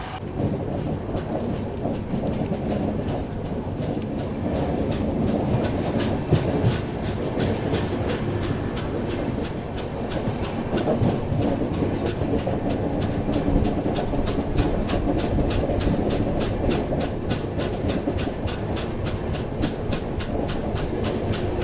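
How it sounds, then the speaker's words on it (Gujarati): The 22945 Saurashtra Mail train runs on double-line tracks after leaving Padadhari station, a loud continuous rumble with rhythmic wheel clacks and rattling carriages that grow more pronounced in the second half, with no talk. "આપણી ટ્રેન ડિપાર્ટ થઈ ગઈ છે પડદરી રેલવે સ્ટેશનથી"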